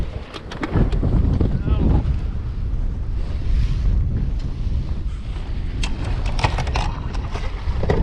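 Strong gusty wind on a small lake during a bass fishing trip from a boat, roaring continuously across the microphone with choppy water, a voice talking over it.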